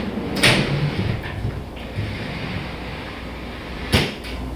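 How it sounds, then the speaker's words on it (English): A pivoting wall panel in a small modular apartment slides aside with a short thump at the start and another knock near the end, with a quiet rolling rumble between. "So the panel slides aside to expose the office."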